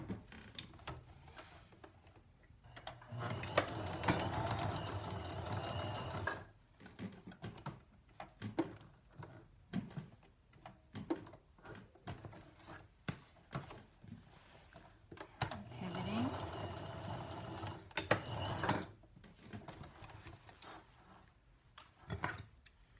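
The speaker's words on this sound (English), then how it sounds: "I'm going to stitch along this outer 1/4 inch away." A sewing machine stitching a skirt waistband a quarter inch from the edge, two bursts of steady mechanical whirring separated by quieter clicks and ticks, fairly faint and close.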